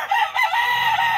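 A fighting rooster from a gamecock breeder's yard crows once, loud and close, a sustained bright call filling the moment with no talk.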